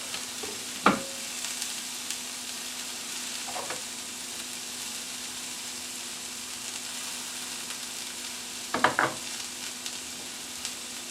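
Mushrooms fry in a pan with a steady, soft sizzle and a low hum beneath it, broken by a few sharp clatters of stirring or utensil contact.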